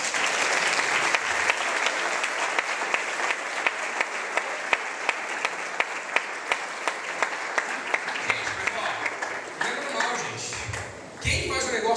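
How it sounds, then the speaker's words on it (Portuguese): A congregation at an early-morning church service claps in sustained applause, dense and steady with sharp individual claps standing out, then tapering into voices and movement near the end. "Pode dar um salve de palmas para Jesus por isso?"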